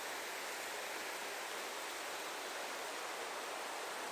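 A river rushes past old stone ruins near Stirling, heard as a constant broadband hiss of flowing water, even and unbroken for several seconds with no talking.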